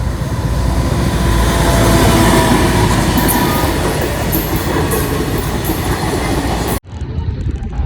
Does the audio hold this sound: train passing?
yes